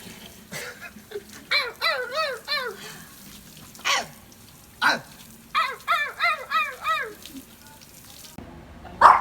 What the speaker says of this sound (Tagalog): Dito po paliliguan yung aso.